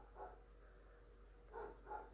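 Indoor house dogs let out three short, muffled barks, two close together near the end, faint and from another room over a low hum.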